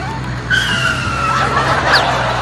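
A cartoon bulldozer being driven in a zigzag makes a loud, close skidding screech, with squealing tones that rise and bend over a steady engine rumble for about two seconds.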